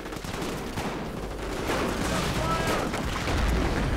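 In the Company of Heroes video game, a heavy machine gun fires in sustained bursts over a loud battlefield din, while a commentator talks over the action.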